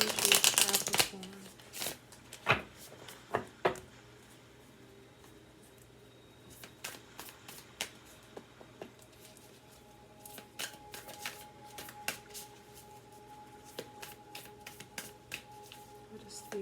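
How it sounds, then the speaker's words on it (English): Hands shuffle a deck of oracle cards, starting with a loud rustling burst, then many crisp riffling clicks and soft card slaps at an uneven pace, close and fairly quiet against a low background hum. "I'm always awkward when it comes to shuffling these decks."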